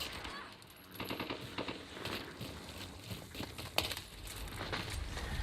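Rapid automatic gunfire from a sentry gun in the PC game Call of Duty multiplayer, dense bursts of shots layered with other battle noise, fairly loud and continuous across the clip.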